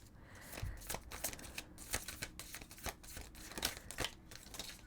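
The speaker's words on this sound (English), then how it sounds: "These cards are a little bit hard to shuffle." Tarot-style crystal oracle cards being shuffled, close and quiet, a steady run of crisp riffling flutters and soft slaps in quick rhythm, heard alone without talking.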